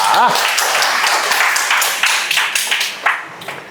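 An audience at a spiritual talk breaking into applause, a burst of many hands clapping that carries on steadily and tapers into a few louder scattered claps.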